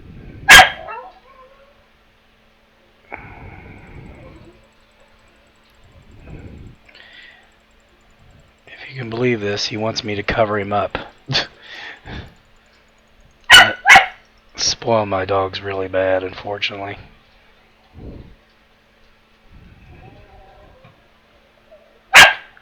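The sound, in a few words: pet dog barking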